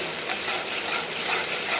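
Red chili paste and garlic stirred in a hot pan, a continuous bright sizzle with light scraping of the spoon, close and steady for a short moment with no talking.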